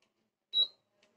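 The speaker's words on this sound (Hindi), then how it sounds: "तो आपको सुनाई दे रहा होगा कि एक आवाज़ कर रहा है बीप का" Induction cooktop giving a single short high-pitched beep when switched on with a non-induction aluminium pan on it, close and fairly quiet, followed by near silence.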